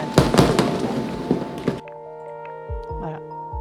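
Fireworks burst in a city inside the life-sim game inZOI, a dense run of loud crackling explosions followed by several lower, spaced thumps over a steady musical hum.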